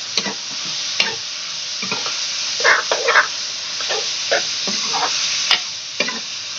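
Mungre are stir-fried in a pan with potatoes and peas. Irregular scraping stirs and soft sizzling bursts sit over a constant close hiss.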